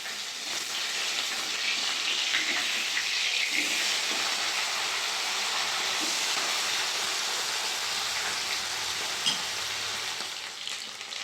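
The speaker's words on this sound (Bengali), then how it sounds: "মাছগুলো ভালো করে ভেজে নিচ্ছি" Khoira fish fry in hot oil with a loud, steady, hissing sizzle that fills the whole stretch without a break.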